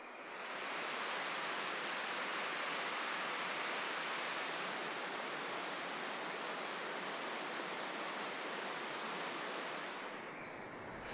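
Steady rushing water from park fountains and cascades at the Domaine de Sceaux pours continuously, a broad even hiss holding for about ten seconds before cutting off.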